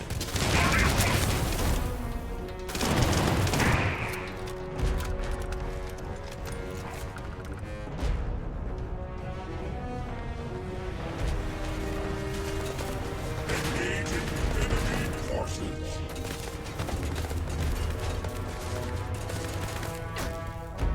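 Gunfire in the Starfield space game, bursts of rapid shots and clattering impacts spread over a long stretch of combat noise, with someone talking at times.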